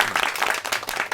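Brief burst of hand clapping from members at a party committee meeting, dense and close, lasting only a moment.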